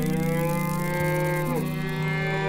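A cartoon cow lets out a long, loud, sustained moo with a bending pitch, heard on its own in an animated farm scene.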